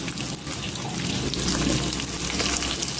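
Dry fish fries in a pan with a dense, continuous sizzling hiss that stays loud and even throughout, with no voices.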